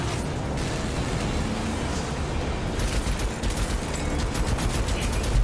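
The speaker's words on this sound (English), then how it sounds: "Danger! Enemy fire incoming." Rapid gunfire and explosions rattle on in a vehicular combat racing game, with dense continuous bursts and crackling blasts layered over engine rumble.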